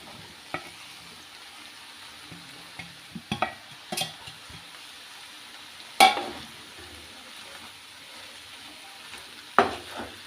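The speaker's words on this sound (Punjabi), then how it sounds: "ਗੋਭੀ ਨੂੰ ਚੰਗੀ ਤਰ੍ਹਾਂ ਅਸੀਂ ਮਿਕਸ ਕਰ ਲਾਂਗੇ" Cabbage and potatoes frying and being stirred in a pan for Punjabi-style aloo gobi, a steady sizzle with scattered scraping clicks of the spoon and a few sharper knocks against the pan, with no talking.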